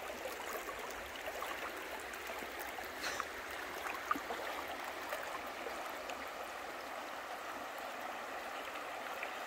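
The Peace River in Florida flows with a steady, soft rushing and gurgling as a small Miniature Pinscher crosses it, the water noise even and moderately distant with a faint splash or two.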